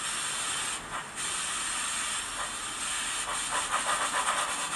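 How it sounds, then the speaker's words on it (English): An OO-scale 2-6-2T model steam locomotive with a Soundtraxx Econami sound decoder plays a wheel-slip effect: a steady loud steam hiss with quick chuffing bursts near the end. "But you can see how I can get that sound of the wheel slip."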